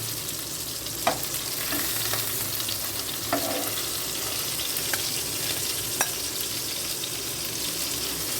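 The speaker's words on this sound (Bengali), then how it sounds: "মাছ ভাজা আমার হয়ে গেছে" Pieces of hilsa fish fry in hot oil with a steady, dense sizzle throughout, punctuated by a few sharp spatters and utensil clicks as the pieces are lifted out.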